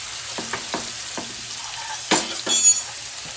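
Garlic sautéing in a hot pan while Gujarati-style stuffed okra is being prepared, a steady close sizzle broken by a few soft stirring scrapes and a brief louder burst of frying near the end, with no talking.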